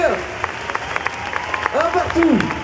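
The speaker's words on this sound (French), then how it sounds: "On va applaudir." An audience at a French video game event applauds with a short burst of scattered, moderately loud claps while voices talk over it.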